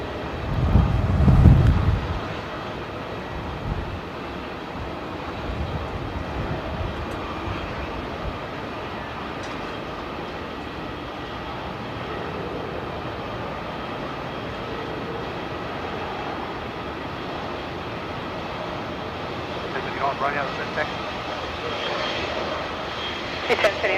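A Velocity airliner arriving at Melbourne Airport from Launceston gives a distant, sustained jet-engine roar that swells near the end, with brief voices at the start.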